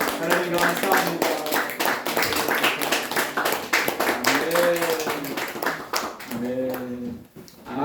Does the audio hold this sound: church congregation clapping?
yes